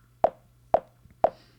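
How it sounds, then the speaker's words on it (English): Three evenly spaced, short plucky notes from a web-based wavetable synth, each key press landing on a metronome beat about half a second apart, close and clean with quick decays over a faint low hum. "I'm going to start a metronome and just press the key right on beat"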